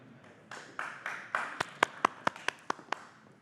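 Applause at a council committee community meeting as a speaker steps up, starting from a few scattered claps and building into a sharp, distinct run from a small audience, quiet and fairly close.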